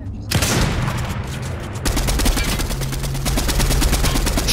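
Rapid video game gunfire in a battle royale match, a dense run of loud repeated shots and bursts that fills the whole stretch with little pause.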